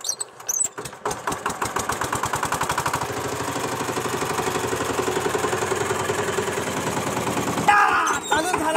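A tractor engine cranks and catches, then settles into a loud, steady, rapidly pulsing run that continues close by for several seconds.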